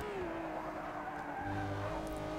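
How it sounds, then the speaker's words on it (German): Ferrari F12 tires squeal and skid as the car drifts through a corner in the Forza 6 Apex racing game, a sustained whining screech over steady engine roar, loud and continuous throughout. "Und ich komme auch immer wieder ins Driften."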